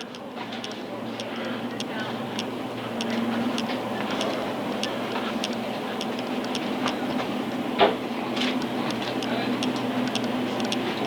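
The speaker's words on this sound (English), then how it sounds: "Yep, walking through the train." A moving Adirondack Railroad passenger train rumbles steadily from inside the car, with a low hum and rhythmic ticking clicks of wheels on rail joints, plus one brief louder knock; people talk quietly under the noise.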